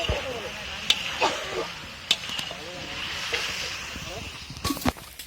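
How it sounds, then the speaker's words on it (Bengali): Fish sizzling in a frying pan at an outdoor picnic cookout, a steady hiss and crackle with a few sharp spatters and stirring knocks, mixed with background voices and chatter. "এখানে মাছ ভাজা হচ্ছে।"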